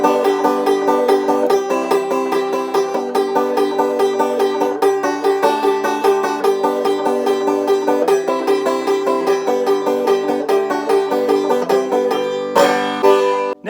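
Banjo picking a lively song with the high drone string added, a steady stream of bright plucked notes close and loud, ending in a brief strum and cutoff with no talking.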